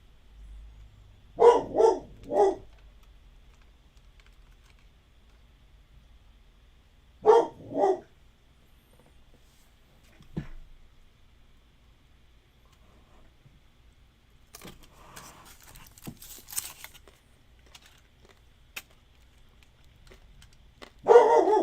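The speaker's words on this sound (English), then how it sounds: "Bella, bark for big candles, baby. Louder, Belle." A dog gives several short barks in separate pairs and triples, fairly close and moderately loud, with long quiet gaps between them and some jangling and handling noise toward the end.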